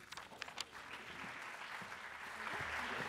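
An audience claps to welcome a speaker onto the stage at a tech talk, with a steady wash of applause heard from a distance that swells slightly toward the end.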